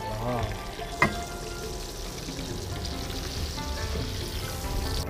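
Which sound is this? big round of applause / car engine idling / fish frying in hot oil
fish frying in hot oil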